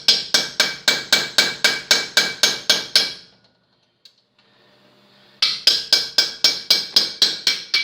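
Sharp, rapid metallic strikes chop excess metal off a cracked KIA Sorento 2.5 cylinder head ahead of welding. Evenly spaced ringing blows continue for about three seconds, stop through a quiet gap, then resume at the same pace.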